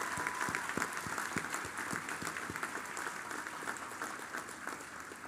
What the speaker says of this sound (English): Let's clap hands to them.